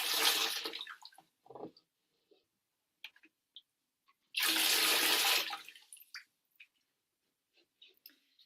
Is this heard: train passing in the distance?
no